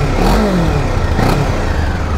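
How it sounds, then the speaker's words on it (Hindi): A Kawasaki Ninja 500 motorcycle engine idles loudly up close, a rough, continuous low exhaust note with slight surges and no voices. "अब हम सुनते हैं इसका एग्जॉस्ट नोट सबसे पहले कि बाइक का साउंड कैसा है।"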